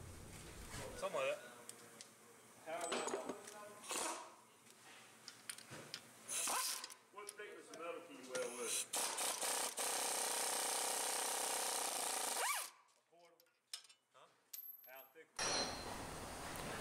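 Repeated ratcheting clicks and metallic turning as a wrench works bolts loose on a 2007 Buick wheel bearing, close up, with brief pauses and a quieter stretch near the end.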